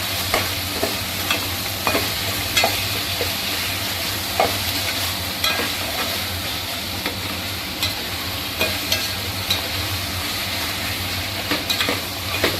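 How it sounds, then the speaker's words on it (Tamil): Coriander leaves and other ingredients for a fish or prawn curry sauté in a hot pan, sizzling steadily while a utensil scrapes and stirs in irregular clinks throughout. "எல்லாம் வதங்கட்டும்."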